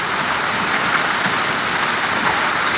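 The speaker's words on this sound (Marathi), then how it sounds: "गाईज गारा पडताय डायरेक्ट, होले गिर राहिले डायरेक्ट." Heavy rain with hailstones pounding down during a storm, a dense, steady roar of drops and impacts filling the whole stretch, loud and close with no break and no voices.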